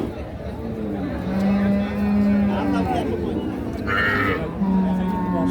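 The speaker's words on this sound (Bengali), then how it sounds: "এই পাশে একটা গাভী দেখছি।" A cow with a calf, of Sahiwal or Sindhi breed, at the Ambari cattle market gives low, drawn-out moos amid crowd chatter and people talking close by.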